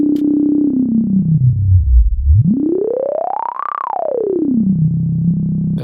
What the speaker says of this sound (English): So maybe if I use a bandpass instead.